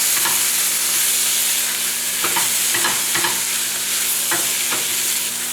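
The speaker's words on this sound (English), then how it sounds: "I like to put my meat in to get a little bit white" Meat browning in a pot for goulash soup, a loud continuous sizzle broken by several scraping stirs of a utensil against the pot, close up and with no talking.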